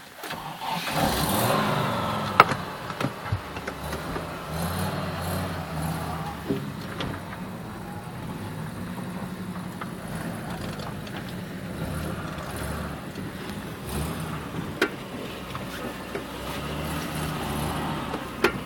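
A car drives off, its mid-pitched engine rumbling steadily nearby. A slightly louder surge comes at the start, with a few small knocks and clicks over the continuous drone.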